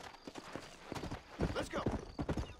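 Horse hooves clop in a steady gallop rhythm as a rider travels through woods in the video game Red Dead Redemption, with faint voices in the background.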